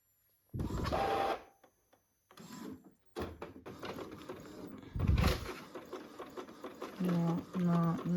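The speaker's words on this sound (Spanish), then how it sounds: "Que yo no sé cuándo la impresora va a decidir que el papel se va a atascar y cuándo no." A home printer feeds paper while printing DIY wedding invitations, with mechanical whirring and ratcheting bursts that start and stop irregularly, moderately close and heard without speech.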